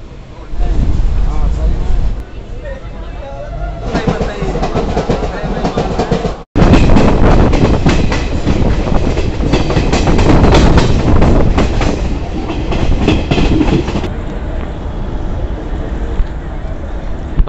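An Indian Railway train runs with a loud, steady rumble and a rhythmic clickety-clack of wheels over the rail joints, heard close up from on board. There is a sharp break partway through, and people talk now and then over the noise.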